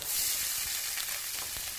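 Onion sautéing in olive oil in a pan for rice, a steady close hiss and crackle of frying with no talk.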